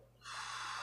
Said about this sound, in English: Take a deep breath in. And blow it out.